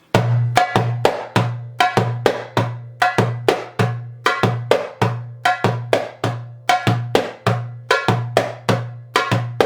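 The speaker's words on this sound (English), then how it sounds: "You can turn that tek into a slap and have it sound like this." Darbuka loops the galloping Ayub rhythm of booming bass tones and crisp, cracking slaps, played solo and close at a steady pace.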